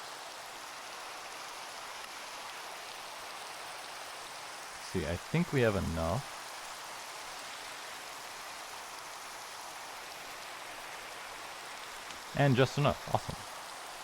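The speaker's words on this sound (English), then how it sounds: "And it started raining." Steady rain falls in Minecraft with the Create mod, a soft continuous hiss running throughout at low volume, briefly overlaid by someone talking twice.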